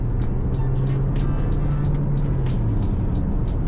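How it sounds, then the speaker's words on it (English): GWM WEY G9, TANK 700 or TANK 500 Hi4-T accelerating while merging onto a 100 km/h road in Australia, a loud steady engine drone with a low tone rising and falling, and rhythmic repeating swooshes. "Car picks up really well."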